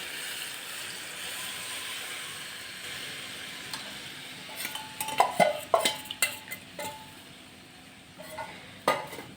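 A spoon stirs sorghum flour batter in a pot on the stove, soft scraping and clinks that build into a cluster of sharp knocks midway, with a faint hiss of cooking underneath.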